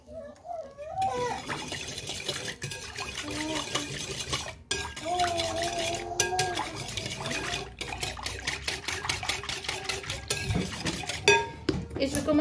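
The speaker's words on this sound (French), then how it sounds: "Je mélange tout cela." Pizza dough ingredients being mixed in a bowl with a utensil, with repeated scraping and clinking against the bowl, a short pause midway, and some faint voice sounds underneath.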